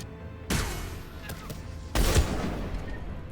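Gunfire in the video game Mass Effect 3, with two loud bursts of shots, one near the half-second mark and a heavier one about a second and a half later, each trailing into a noisy battle wash.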